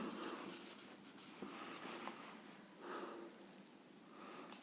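Pen writing out a math solution by hand, a steady run of scratchy strokes with short pauses between them, close and fairly quiet, with no talk over it.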